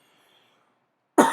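A single sharp cough bursts out near the end after near silence, close and loud, from a person during a Bootstrap grid system coding lesson.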